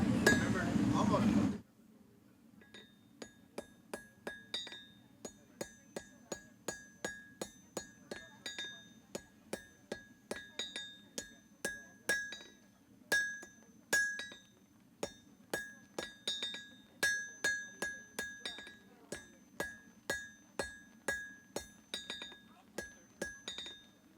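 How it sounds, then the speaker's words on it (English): Repeated hammer blows ring out as gun metal is forged into a garden tool, sharp metallic clangs in a steady, fairly close rhythm after a brief opening burst of noise. "I'm just forging it into a garden tool"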